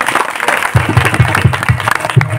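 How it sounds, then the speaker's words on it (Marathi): An audience at a village religious gathering claps in a brief round of applause, with a rhythmic pattern of evenly spaced beats, loud and close, over a short stretch. "एकदा टाळ्या होऊन जातं तुमच्यासाठी"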